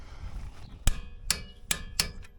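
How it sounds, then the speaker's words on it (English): Four sharp, close clicks from a small torque wrench reaching its set value while tightening bolts on a Jeep, evenly spaced over a quiet garage background. "that click means it's reached that torque value that you set on it"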